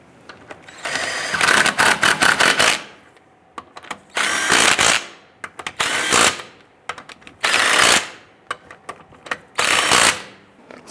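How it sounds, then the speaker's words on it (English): A ratchet snugs down wheel lug nuts on a 2005-2010 Chrysler 300, loud whirring bursts of about a second each repeating five times, with quiet pauses between them. "Once we get these on, we'll snug them down."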